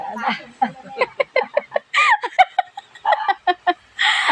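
Chickens cluck in quick bursts close by while a person talks over them.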